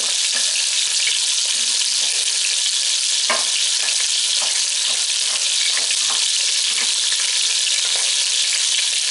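Chicken pieces fry in hot oil with a loud, unbroken hissing sizzle, steady throughout, with occasional faint knocks and spatters rising above the roar.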